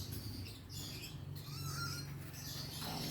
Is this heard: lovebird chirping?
yes